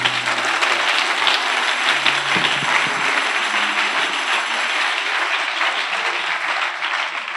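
A church congregation breaks into loud, sustained applause for Jesus, a dense, steady wash of clapping from a large crowd, with faint voices and cheers blended underneath.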